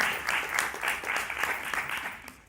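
An audience at a citizens' meeting in Conches-en-Ouche applauds as people arrive: a brief, dense burst of many hands clapping together at moderate volume.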